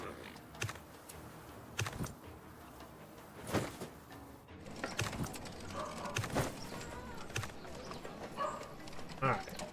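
Horse hooves clip-clop in the strategy video game Millennia, a light repeated clatter of steps alongside soft clicking, with a person talking over it.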